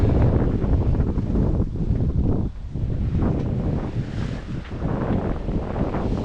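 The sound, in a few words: waves and wind at sea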